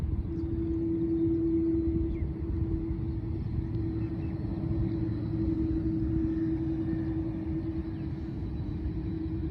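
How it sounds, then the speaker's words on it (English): A Qantas airliner taxis toward its terminal at Melbourne Airport, its engines producing a steady, droning hum with a constant whine and low rumble throughout, heard from a moderate distance. "This is the Qantas plane making its way towards the"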